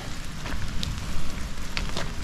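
Steady rain falling outdoors on a hillside by a pole barn, a dense continuous hiss with a few louder drips and spatters, heard alone without voices.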